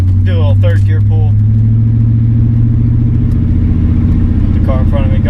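A 1998 GMC Sierra SLT with a modified loud exhaust pulls hard in third gear, its deep engine drone steady and close throughout, while someone talks briefly at the start and end.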